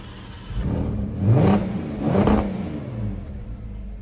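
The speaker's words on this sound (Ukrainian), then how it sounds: "давай ти газну" Repaired Porsche engine revving in a workshop, two rising-and-falling throttle blips over a steady close idle, loud and without talk.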